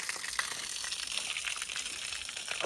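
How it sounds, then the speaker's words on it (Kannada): Water falls steadily into a natural spring temple tank among green hills and tall coconut palms, a continuous bright splashing rush heard close and alone. "ಇದರ ಮಧ್ಯದಲ್ಲಿ ನಿಮಗೆ ನೀರು ಬೀಳ್ತಕ್ಕಂಥ ಶಬ್ದ ಕೇಳಿಸ್ತಾ ಇದೆ ಅಲ್ವಾ?"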